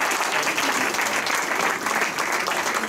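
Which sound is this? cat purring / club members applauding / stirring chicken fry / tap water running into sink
club members applauding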